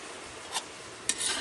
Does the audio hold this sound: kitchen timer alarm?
no